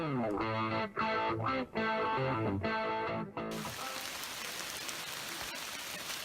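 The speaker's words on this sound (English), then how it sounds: "it's been raining on us all morning" Steady rain patters all around on a hiking stretch of the Appalachian Trail between Hot Springs, North Carolina and Erwin, Tennessee, a constant soft hiss continuing alone after tonal music fades out in the first few seconds.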